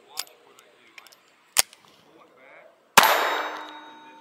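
Ruger Mark IV 22/45 Lite pistol firing Norma TAC-22 rimfire rounds: two sharp cracks early and a loud final shot with a long ringing tail, separated by faint mechanical clicks.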